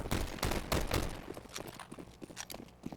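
Rapid gunfire from Counter-Strike during a competitive match, with an AK rifle firing bursts alongside scattered shots and footsteps, loud and dense early then thinning into sporadic cracks.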